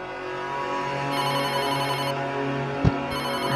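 A phone ringtone plays for an incoming call as a loud, steady electronic melody, alone and close.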